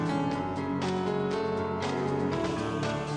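Piano playing fills the clip steadily with chords and repeated notes, loud and close, with no voices over it.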